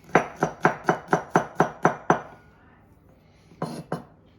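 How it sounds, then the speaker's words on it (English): A knife chops steadily on a cutting board while ingredients for a Caesar salad are minced, with about nine crisp, evenly spaced strikes, then a pause and two more close, clear chops. "scrape it into a pile using a rocking motion until it's minced"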